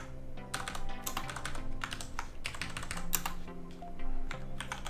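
Rapid typing on a computer keyboard fills the clip with close, crisp clusters of key clicks in uneven bursts, over a faint, steady tonal background.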